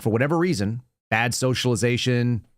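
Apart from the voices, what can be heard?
None of the usual background noises is heard.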